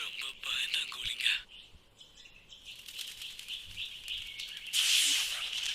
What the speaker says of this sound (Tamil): ஆமா, ஏதோ பறவை.